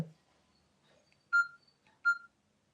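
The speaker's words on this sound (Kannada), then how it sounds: "ನೋಡಿದ್ರಾ ರಿಂಗ್ ಟೋನ್ ಕೇಳಿಸ್ತಿದೆ ಅಲ್ವಾ" An incoming-call ringtone on a smartphone set to bypass Do Not Disturb, heard as two short bright electronic tone bursts about three-quarters of a second apart, faint and alone against near silence.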